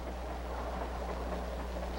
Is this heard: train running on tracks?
yes